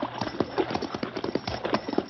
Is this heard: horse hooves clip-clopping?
yes